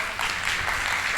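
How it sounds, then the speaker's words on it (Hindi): Brief burst of group applause at a summer camp, a dense wash of many hands clapping at once, fairly loud and continuous with no distinct voices. "जोरदार तालियां।"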